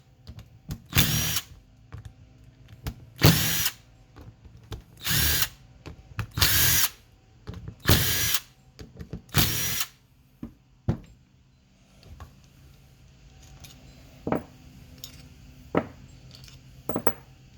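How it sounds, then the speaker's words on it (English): A power drill removes 8 mm bolts from a transmission pan during a 3800 shift kit install. Six loud, close whirring bursts come in quick succession, followed by quieter clicks and short tool sounds. "you just need to remove all these 8 millimeter bolts."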